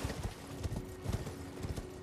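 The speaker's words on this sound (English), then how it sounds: "The sound of the horses trampling on cobblestone is satisfying as hell" Horse hooves clopping over cobblestone in the Elden Ring video game, a steady rhythmic trot of close, moderately loud hoofbeats over a faint steady hum, with no talking.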